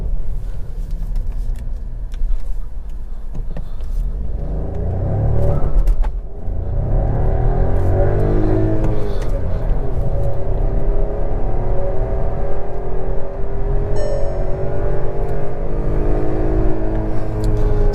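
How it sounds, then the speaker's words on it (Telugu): A Skoda Kushaq with a three-cylinder engine and six-speed manual gearbox accelerates hard, its engine note climbing loud and close through the revs, dipping at a gear change, then rising again. "సో ఇప్పుడు మనం ఫస్ట్ ఒకసారి క్విక్ యాక్సలరేషన్ చూద్దాం"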